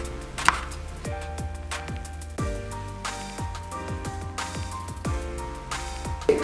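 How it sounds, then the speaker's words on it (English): A knife slices thin pieces from frozen ingredients on a board, about a dozen crisp cuts in an uneven rhythm, close and clear, over a ringing background hum. "Cut some very thin slices."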